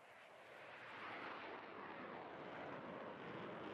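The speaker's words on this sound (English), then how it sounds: "SU-27 pulling up into the sky, full afterburners" A Sukhoi SU-27 jet in the flight sim DCS climbs on full afterburner, a steady broad roar that swells after the first second and holds loud and constant with no voices.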